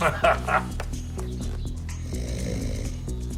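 Rhythmic snoring-like rumbles from cooing pigeons repeat steadily, with short breathy snorts between them.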